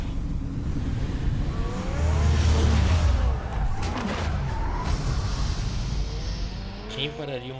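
A car engine in the Batman Telltale game runs and accelerates, with tire squeal and skidding sweeps rising over a steady motor roar, while a voice talks over it.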